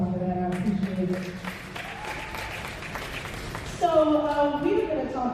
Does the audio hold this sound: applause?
yes